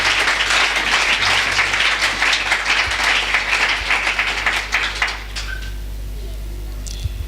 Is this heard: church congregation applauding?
yes